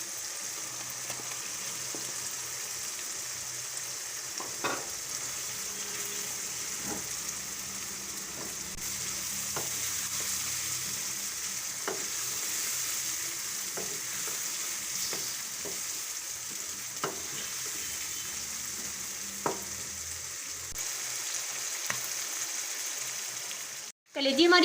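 Masala-marinated goat liver frying over light-browned onions: a steady, even sizzle hisses throughout while a spoon stirs with periodic soft clicks and scrapes, ending in a brief louder burst.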